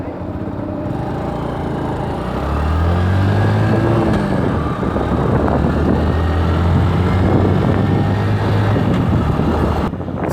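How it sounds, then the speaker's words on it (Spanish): A new motorcycle in its break-in period, ridden with gentle gear changes: a steady engine drone rises in pitch, drops at each shift and climbs again, with wind rushing over it throughout. "vamos haciendo los cambios, pero no vamos forzando el motor para que el motor trabaje suave"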